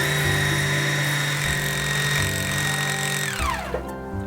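A Juki TL-2010Q sewing machine runs with its foot pedal held fully down, giving a loud, steady high-pitched motor whine that winds down in pitch and stops near the end.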